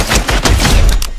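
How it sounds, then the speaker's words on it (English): Loud, rapid Fortnite gunfire rattles in a close, dense burst of shots. "I'm getting shot at by somebody"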